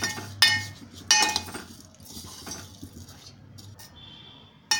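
A utensil stirs vermicelli (semiya) roasting in a pan, giving sharp metallic clinks and scraping taps at irregular intervals, close and moderately loud, with quieter rustling between strikes.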